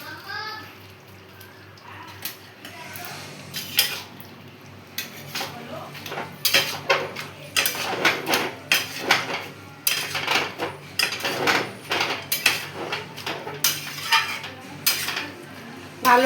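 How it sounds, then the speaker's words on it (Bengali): A spoon stirs a rice-flour mixture in a pot for a Bengali banana-stem curry. It makes irregular scraping and clinking strokes that grow busier and louder after the first few seconds, with no talk over them. "ভালো করে নাড়াচাড়া করলাম"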